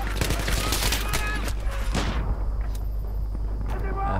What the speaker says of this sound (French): J'ai jamais vu autant de grenades de ma vie quoi.